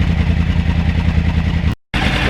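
A Yamaha R1 motorcycle engine idles steadily and loudly up close, a dense low rumble that runs throughout and cuts out briefly near the end before resuming.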